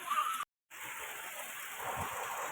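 Heavy rain pours down in the dark of night in an Odisha village, a dense steady hiss that cuts out briefly for a moment before resuming just as strongly.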